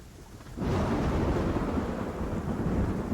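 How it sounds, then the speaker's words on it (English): A deep rolling rumble of thunder breaks in suddenly and sustains loudly, with a wash of broadband noise like rain beneath it. "You hear a bit of thunder."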